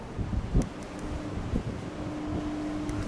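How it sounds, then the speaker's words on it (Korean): Strong cold wind blows steadily into the microphone outdoors, a continuous low rumbling roar with a few gusty thumps and buffets, no speech. "오늘 너무 추워 바람이 점점 세게 불어"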